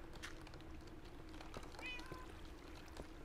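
A cat in the video game Minecraft gives one short, faint meow partway through, set over a steady low game background hum with a few light ticks.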